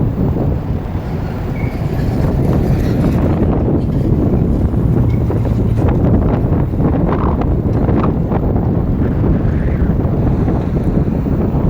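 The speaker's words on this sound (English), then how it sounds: "The wind is incredible." Strong, steady wind buffets the microphone with a loud low roar and gusty rumble that never lets up, with no voices.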